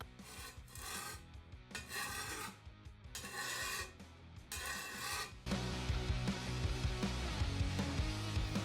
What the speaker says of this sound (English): I'm gonna rest the shovel on the table and start filing